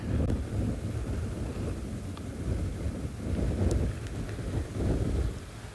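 Steady wind roars across the microphone outdoors on a morning safari in South Africa, a continuous low rumble that swells and eases without pause.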